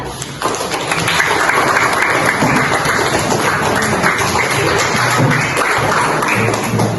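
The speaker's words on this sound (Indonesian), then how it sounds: "Kita kasih aplaus dulu untuk kelompok 3, kelompok terakhir." An audience in a classroom-style discussion session applauds the third and final presenting group, loud sustained clapping that starts abruptly and keeps going at a steady level for several seconds.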